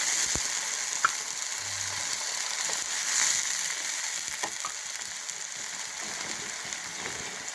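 Tomato paste frying with golden onions in a pan for mutton curry, a steady soft sizzle with faint scattered clicks and stirring, moderately quiet and without speech.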